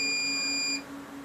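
A continuity tester gives one steady high-pitched beep for most of a second and then cuts off, checking leads on a drone's electronics during an ImpulseRC Reverb quadcopter build with a capacitor fitted.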